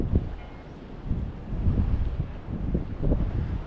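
Easterly wind buffeting a microphone on Porthcawl Pier in South Wales, a steady low rumble that swells in gusts for several seconds, with faint sea sounds underneath and no voices.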